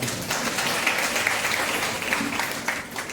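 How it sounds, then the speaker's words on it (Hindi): A church congregation claps during a Sunday sermon, the applause a steady, dense wash of many hands filling the whole moment at an even level without any speech. "ताली बजाओ भाई"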